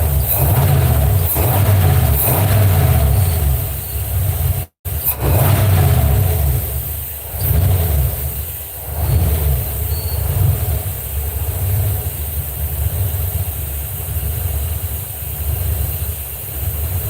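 Ford F150 truck engine idling close by, a steady low rumble with slight surges and a brief dropout partway through.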